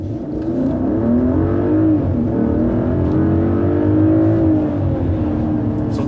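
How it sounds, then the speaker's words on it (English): A 2019 Mercedes GLE 450 accelerates at full throttle in Sport mode on a highway in traffic. Its steady, powerful engine drone climbs in pitch for several seconds, heard from inside the cabin with no talk. "So that was a full throttle on the Sport."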